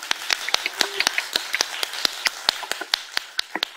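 A small audience at a political campaign launch event gives scattered, sparse handclaps, individual claps sounding close and distinct in a quick uneven rhythm.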